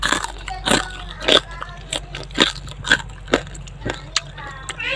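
Someone bites into a crispy fried vegetable fritter (bakwan), giving a series of sharp, close crunches spaced about half a second apart.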